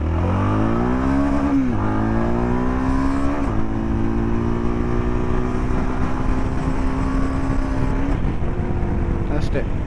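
A Jawa Yezdi Adventure motorcycle engine revs up and down several times in rising and falling sweeps, loud and close, then cuts out near the end, with a voice talking over it.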